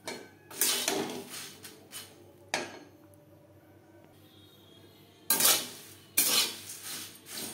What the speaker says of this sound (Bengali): মচমচে হয়ে আসা পর্যন্ত নাড়াচাড়া করে নেব।